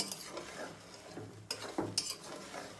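Mango pieces are stirred in hot oil for pickle. A soft, low sizzle runs under a few quiet spoon scrapes and clinks that cluster near the end.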